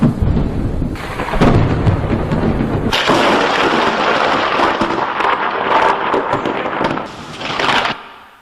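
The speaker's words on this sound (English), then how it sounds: "The 7 thunders uttered their voices." Thunder rumbles and cracks loudly for about eight seconds, in heavy layered booms with a sharp burst partway through, then cuts off abruptly.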